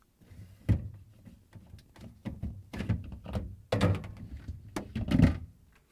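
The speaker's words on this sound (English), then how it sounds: "We will start with removing shelves." Plastic shelves knock and slide as they are pulled out of the fresh food compartment of a Samsung refrigerator, close, irregular thunks and scrapes with no talking.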